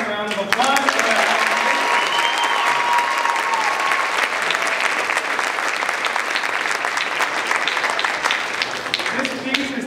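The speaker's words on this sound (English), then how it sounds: "Let's give them another round of applause." Audience at a school percussion ensemble's fall concert giving a loud, sustained round of applause with scattered cheers, the dense clapping filling the whole stretch, with a voice heard faintly under it at the start.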